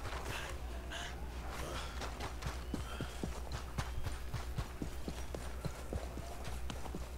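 An Appaloosa horse in Red Dead Redemption walks with regular clip-clop hoofbeats on hard ground, close and clear, while crows caw in the background.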